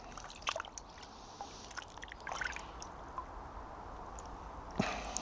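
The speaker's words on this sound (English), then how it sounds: "Again, just wash the dirt off." Water trickles and splashes softly while dirt is washed off dahlia tubers, a steady faint wet wash with a few drips and knocks, close by and without talk.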